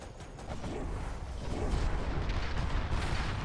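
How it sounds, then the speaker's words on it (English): Carpet bomb explosions in the real-time strategy game Generals Evolution, a dense rolling series of muffled booms and rumbling blasts that grows louder midway and continues without talk. "Carpet bomb lands, but doesn't totally clear the front line."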